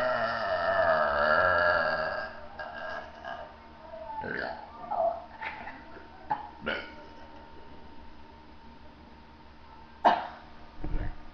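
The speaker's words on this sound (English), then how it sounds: "Now the gargly burp." A person does a long, gargly burp during a burping contest, a rolling throaty rumble lasting a couple of seconds, followed by quieter scattered sounds and short bursts of talk and laughter.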